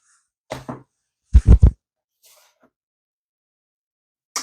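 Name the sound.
sneezing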